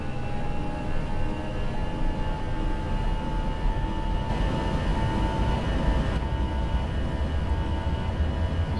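An airliner taking off in the X-Plane 11 flight simulator, with a steady, loud engine roar and broadband rumble that holds throughout, shifting slightly in pitch midway, no talk.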